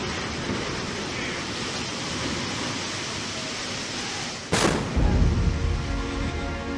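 A single heavy blast from a naval 5-inch 54 caliber deck gun during a live-fire exercise aboard a destroyer at sea, heard once near the end over steady wind and sea noise, followed by a low rumbling roar.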